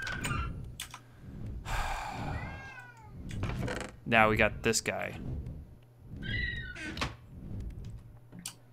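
Cat meowing in a kitchen, with several drawn-out rising meows spread across the stretch, close and loud, mixed with someone talking, soft thumps and a low steady hum.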